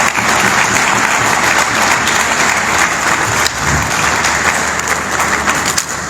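A large crowd at a rally-style gathering applauds loudly and steadily to welcome Aitzaz Ahsan, dense continuous clapping filling the whole stretch with a brief dip midway.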